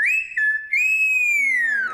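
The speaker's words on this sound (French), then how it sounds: "Je sais siffler avec les cordes vocales" A girl produces a clear, loud whistle with her voice, one sustained pure tone that slides slightly in pitch and holds for about two seconds before gently falling, with no other sound around it.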